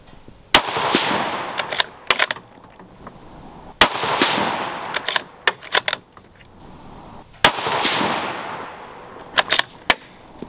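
Three rifle shots ring out in a slow, evenly spaced sequence from steel-cased ammunition while a scope is sighted in. Each loud, sharp crack has a long echoing tail, and clicks and handling noises of the rifle fall between the shots.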